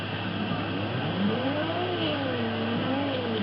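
A high, whining racing engine revs up and down in smooth rising and falling sweeps, steady and moderately loud, with a thin synthetic tone, a tuned car in Forza Horizon sounding like an F1 car.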